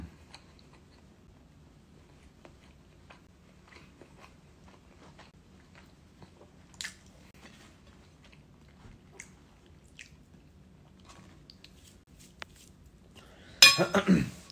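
Someone eating a cheeseburger without mustard or ketchup: faint, close chewing and soft bites continue through a quiet stretch, with a few light clinks, and a louder burst of handling noise near the end.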